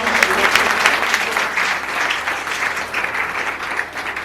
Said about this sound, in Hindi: एक बार ज़ोरदार तालियों से रोहित चौधरी।